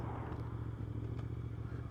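A 2025 Suzuki GSX-8R motorcycle fitted with a Scorpion exhaust is ridden, giving a steady, throaty low engine drone with a continuous hum and some wind noise.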